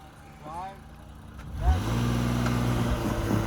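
An Infiniti QX60 in sport mode launches in snow, the engine rising from a low rumble into a sustained, loud, steady acceleration drone close by, with someone talking over the start.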